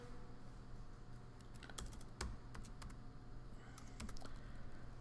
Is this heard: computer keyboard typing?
yes